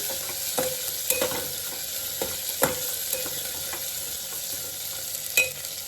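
Mint leaves frying on a low flame for Hyderabadi bagara rice: a steady soft sizzle with occasional stirring taps and clicks from the pan, with no talk.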